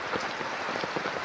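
Heavy rain falls during a downpour with flooding. It gives a dense, close patter of drops hitting a surface, steady and fairly soft with scattered louder splats.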